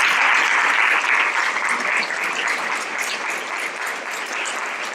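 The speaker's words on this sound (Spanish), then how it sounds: "denle un aplauso a la gente que está con nosotros por primera vez" A church congregation breaks into loud, sustained applause for first-time visitors, a dense steady clatter of many hands filling the room and tapering slightly toward the end, with no voices standing out.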